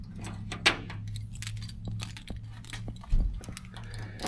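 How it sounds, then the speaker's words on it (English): Keys on a large ring for a 1966 Cadillac Eldorado jangle and clink close by as someone sorts through them at the trunk, with scattered metallic rattles and two sharper knocks. "Bunch of keys on here, so I'm gonna hope that I get it on the first try."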